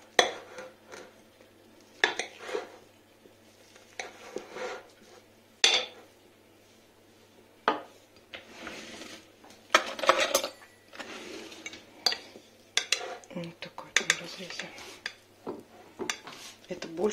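A knife slices homemade kholodets (meat aspic) on a plate, giving soft, irregular clicks and scrapes of blade on crockery, close and fairly quiet.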